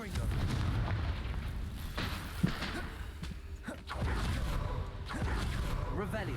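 Confringo fire spell exploding in the Hogwarts Legacy video game, a few booming blasts and whooshes over a dense bed of game noise, with a player talking throughout.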